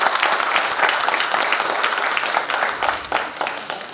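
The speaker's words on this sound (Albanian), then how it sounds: "po e zëvendësoj me një duartrokitje shumë të madhe për këtë atmosferë" A big round of applause from an audience at a traditional cultural festival in Rozhaje, loud, dense clapping sustained throughout and easing slightly toward the end.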